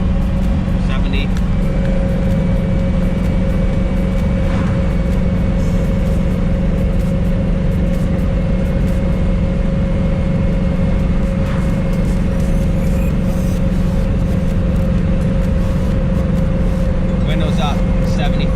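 Steady drone of a car cruising up to highway speed after a boost valve install, a constant low engine and road hum with a sustained tonal whine, heard from inside the cabin with occasional faint talk beneath.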